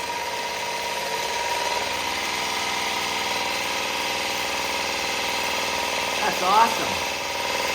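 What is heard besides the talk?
motor-driven gear pump of homemade grouting pump running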